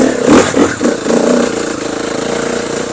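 A Motoes 350 off-road motorcycle engine, fitted with different gearing and clutch weights, revs close and loud in a few sharp blips, then settles into a steady, throbbing idle.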